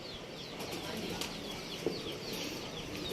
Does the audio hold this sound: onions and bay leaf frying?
no